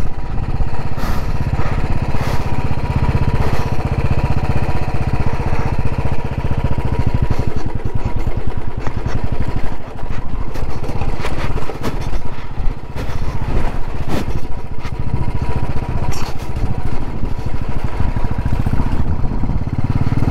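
A motorcycle ridden on the rough mountain road from Jispa to Sarchu on the Leh Ladakh route, its engine droning loud and steady throughout, with scattered clattering knocks from the bumpy surface.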